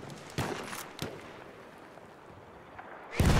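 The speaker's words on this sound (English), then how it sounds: "there's a tank shooting me" Tank cannon fire in Battlefield 1 beta combat: a few sharp, heavy blasts spaced apart, followed by a loud burst at the end, over a steady rumbling battlefield background.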